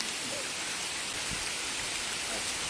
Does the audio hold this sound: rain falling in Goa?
yes